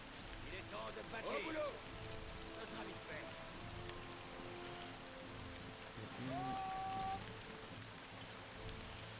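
Steady rain falling in the video game Royaumes d'Arda, a constant soft hiss of drops on surfaces, with faint voices and brief game sounds over it.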